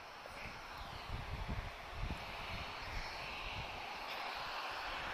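A Transavia airliner departs Lisbon Airport, its engines a steady, distant broadband roar mixed with wind buffeting on the microphone, with no other sounds standing out.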